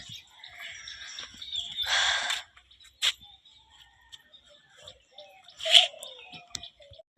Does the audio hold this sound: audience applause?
no